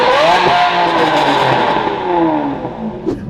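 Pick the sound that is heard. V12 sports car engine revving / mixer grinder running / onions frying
V12 sports car engine revving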